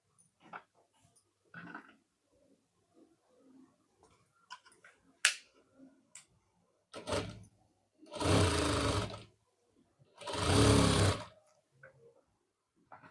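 A sewing machine stitches a blouse back neck design in two sustained bursts of rapid running, after scattered handling clicks and fabric rustles in a quiet room.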